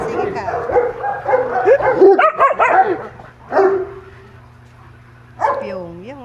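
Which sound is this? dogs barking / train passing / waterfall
dogs barking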